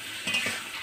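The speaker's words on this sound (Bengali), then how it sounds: "এবার এটাকে আরেকটু নেড়ে চেড়ে দেব।" Salted chicken leg pieces fry in a pan for a village-style chaat. A brief, close scrape of stirring sounds over a steady sizzle.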